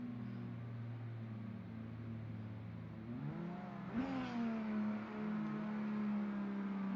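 Drift cars revving at a racing event, a Nissan R35 and an S chassis, a steady engine drone that climbs in pitch as throttle rises, held at a high idle, faintly heard at a distance.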